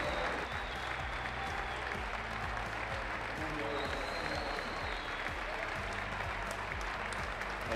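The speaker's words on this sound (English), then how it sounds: "And now the applause from the Harvard fans and faithful." Harvard fans applauding at a men's basketball game against Dartmouth, sustained dense clapping filling the arena while a commentator talks over it.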